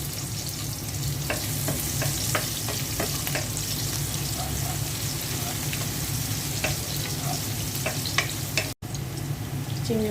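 Onion frying in hot oil in a cooking pot, a dense continuous sizzle with scattered crackles and a few stirring scrapes, close and steady throughout with no talk.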